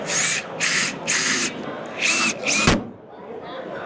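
A power drill whirs in five short bursts of roughly half a second each, close and loud, run at full power while torquing a fastener at a trade show, with a sharp metallic clack near the end.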